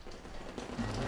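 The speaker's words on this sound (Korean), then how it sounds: "비가 와가지고" Steady rain patters on surfaces in a soft, continuous hiss over a brief stretch, with a faint low rumble underneath and no voices.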